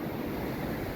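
Wind blows steadily outdoors, a continuous loud rushing roar buffeting the microphone for the whole moment, with no talk.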